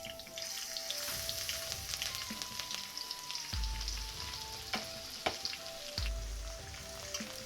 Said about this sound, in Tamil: ஒரு நிமிஷம் அளவுக்கு பூண்டை நல்லா வதக்குங்க.